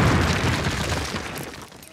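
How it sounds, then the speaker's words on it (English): Explosives detonate against a cinder block wall in the 2003 Call of Duty video game: a loud, close, broadband blast that starts at full force and rumbles away over about two seconds. "Place your explosives on the cinder block wall"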